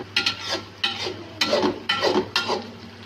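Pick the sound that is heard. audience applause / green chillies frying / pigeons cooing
green chillies frying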